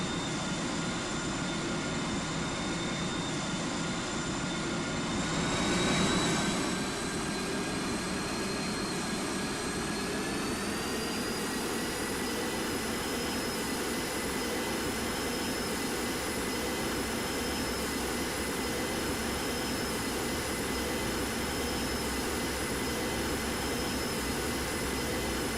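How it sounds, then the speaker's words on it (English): Simulated Airbus A350-1000 jet engines spooling up on a takeoff roll in the GeoFS flight simulator game, a steady loud roar with a rising whine that climbs in pitch through the run. "We're gonna try that takeoff roll again"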